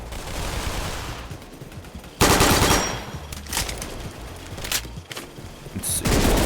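Bursts of rapid gunfire from a custom gun in a Roblox-style shooting game, loud and close, coming in several separate volleys with short gaps between them.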